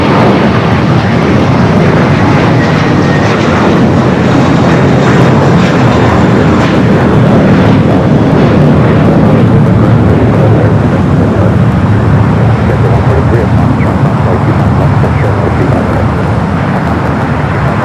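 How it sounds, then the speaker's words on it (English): A Korean Air Cargo Boeing 777 freighter jet on the south side at LAX roars loud and close, a dense, unbroken engine blast sustained for nearly eighteen seconds. "we do have Korean Air Cargo 777 freighter up next"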